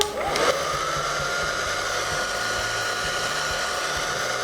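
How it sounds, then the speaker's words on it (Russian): A hair dryer blowing on its cold setting, a steady whirring hiss held evenly at moderate volume after a brief click at the start, with no talk. "Я поставила сейчас холодную температуру у своего фена."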